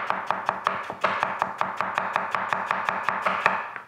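A knife cuts squash into thin slices, a rapid, even series of crisp taps against a cutting board, about four per second, close and clear with no voices.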